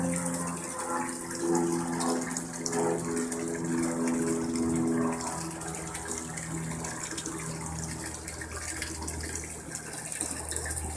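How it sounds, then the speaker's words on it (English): An aquaponics siphon drains water from a grow media bed, producing a steady, fairly loud gushing and gurgling flow that runs unbroken throughout. "I filled it up and the siphon is kicked in"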